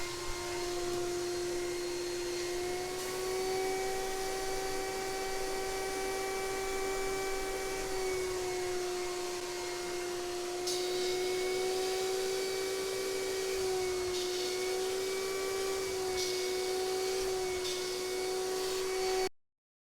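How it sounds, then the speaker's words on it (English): A wet vacuum drones steadily while sucking dirt and water from the damp interior of a 2016 twin-turbo Mustang GT, a loud continuous whine with slight pitch shifts as the nozzle moves, cutting off at the end. "And then suck up all that dirt."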